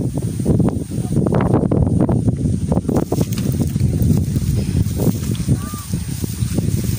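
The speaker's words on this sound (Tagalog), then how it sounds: "lakas ng hangin." Gusty wind buffets the microphone in loud, rough bursts beside a flooded rice field, rushing continuously with no talk.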